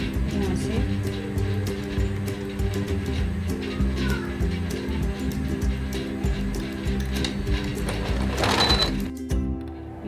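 Sewing machine stitching lace onto a kameez, a steady continuous motor whir with a rapid needle rhythm running through the whole stretch, close and fairly loud, with a brief pause near the end.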